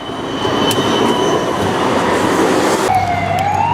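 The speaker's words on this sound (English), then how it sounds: "So there goes the tram." A tram in Budapest rumbles past at close range with a steady, loud roar and high metallic screech, while a siren wails faintly in the background.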